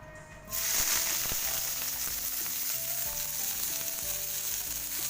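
Onions and green chilies hit a little hot oil and burst into a loud, steady sizzle after a brief quiet start, frying continuously close by with no voices.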